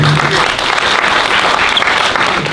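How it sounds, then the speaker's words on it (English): A film festival audience claps for a panelist, sustained, full-room applause that stays loud and even throughout, with faint crowd murmur underneath. "everybody clap it up for Nathan"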